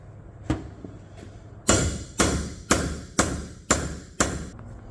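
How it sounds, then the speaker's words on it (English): Six sharp, loud metallic ball peen hammer blows on motorcycle handlebars on a bench land in a steady rhythm, each ringing briefly, after a couple of lighter taps. "use the weight of the bench to start absorbing some of those hammer blows"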